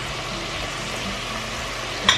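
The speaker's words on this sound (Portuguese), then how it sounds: "vou começar a fritar a minha cebola, alho" Onion and garlic frying in a pan, a steady close sizzle that continues evenly, ending in a brief brighter clatter.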